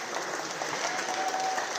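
A high school assembly crowd applauds and cheers as the principal steps up, a steady wash of clapping throughout.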